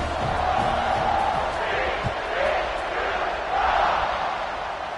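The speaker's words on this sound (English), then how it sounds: "this crowd is buzzing after that last score" Stadium crowd in the College Football 26 video game, a continuous broad roar that swells and ebbs in waves and stays fairly loud throughout.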